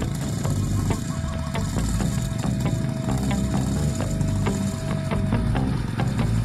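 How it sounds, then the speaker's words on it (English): A motorbike hauling a heavy load of sand labours uphill toward a farm gate, its engine chugging loud and close in a steady rough knocking rhythm that continues without a break, and no one speaks. "That bike is hauling so much weight,"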